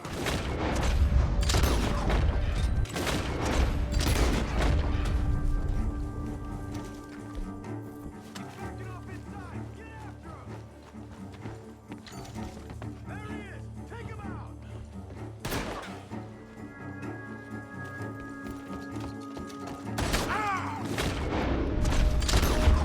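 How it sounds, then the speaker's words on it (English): Gunfire coming from a barn in Red Dead Redemption 2 on PS5, scattered shots and booms over a continuous musical and ambient game score, with characters speaking at points. "Gunshots are coming from that barn."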